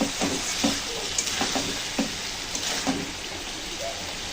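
Shrimp, potato and soybean stir-fried with spices in a pan, a continuous sizzle with regular scraping and tapping strokes of a spatula roughly every half second.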